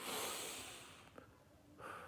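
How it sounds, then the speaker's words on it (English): Slow, deep breathing in a quiet room: a long drawn airy exhale fades over two seconds, broken by a brief sniff, then a fresh breath begins, close to the microphone and with no talking. "So 3 inhales and 3 exhales."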